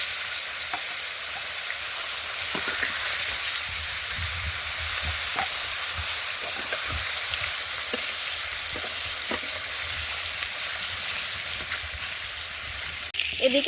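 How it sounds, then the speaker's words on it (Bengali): Fish frying in hot oil in a wok: a loud, continuous sizzle and hiss that holds steady throughout, with faint scattered clinks of stirring and no talk. "মাছ ভাজার জন্য কড়াইতে যে তেল দিয়েছিলাম গরম হয়ে গেছে"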